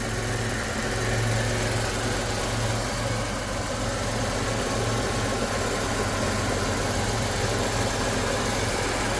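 A Chrysler New Yorker engine, recently revived after being abandoned, idles steadily close by with a constant low rumble and no talking.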